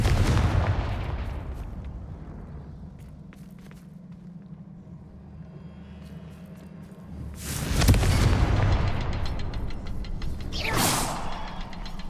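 In the Hogwarts Legacy video game, the Confringo blasting spell goes off in a series of heavy explosive booms with whooshing bursts. A large blast hits around the middle, and another follows soon after, over a low background rumble.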